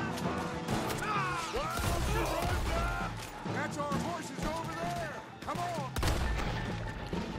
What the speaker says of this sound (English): Shotgun's got some range